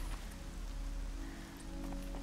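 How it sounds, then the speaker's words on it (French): Steady rainfall hisses in the Horizon video game, an even, unbroken wash of drops landing on surfaces with no pauses, heard alone at moderate loudness. "Et il me pleut dessus."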